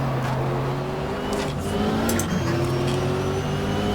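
Porsche race car engine in the racing game GTR2 at the 1995 Daytona 24 Hour, a sustained loud harmonic drone with steady pitch shifts as it runs around the track, competing engines blending in.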